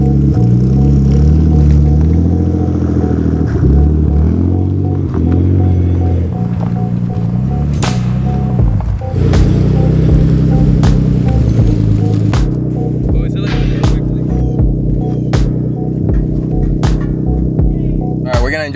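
Deep, steady exhaust rumble from a moving twin-turbo Nissan 300ZX, loud and continuous, with occasional clicks and shifts in pitch.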